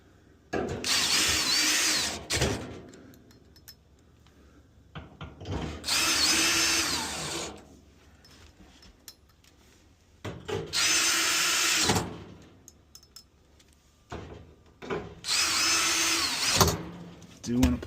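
Power drill driving screws back into an LG dryer cabinet: four separate high whirring bursts of about two seconds each, with quiet pauses between them.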